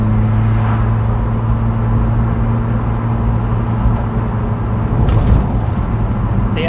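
A new car driving through rain, its steady low engine and road rumble filling the cabin continuously, with a slight swell of tyre and spray noise near the end.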